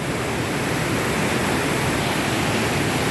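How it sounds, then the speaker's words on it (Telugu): Rushing water of the Sita river, said to flow down from the hills, fills the scene as a steady, loud, even roar with no break and no voices. "ఈ నది సీతా నది"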